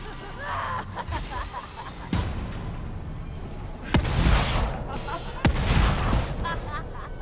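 Three loud, sharp shotgun blasts ring out in The Evil Within, spaced a second or two apart, each with a booming tail over a murky ambient backdrop.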